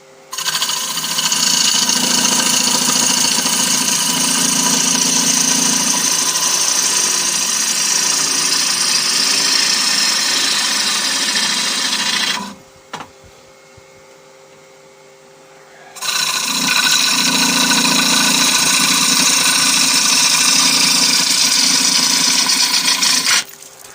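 Wood lathe hollowing out a rough turned bowl, a loud continuous rasping scrape of the tool against spinning wood, cutting out for a few seconds mid-clip before resuming, close with no talking.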